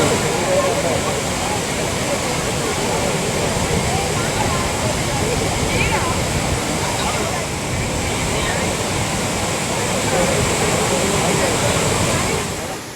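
Floodwater roars over the Courtallam waterfalls after heavy rain, a loud, dense and unbroken rush that holds steady for the whole stretch.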